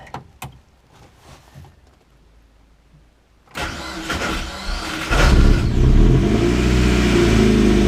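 A Mazda MX-5 fresh from a cylinder head rebuild starts up: a few quiet clicks and cranking, then the engine catches abruptly, revs up loudly and settles into a strong, rough idle.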